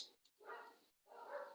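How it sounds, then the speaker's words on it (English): A dog barks a few times at a moderate distance, short sharp bursts separated by brief pauses, with no talking. "Excuse the dogs barking in the background."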